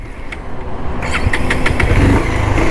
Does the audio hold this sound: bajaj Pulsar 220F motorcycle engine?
yes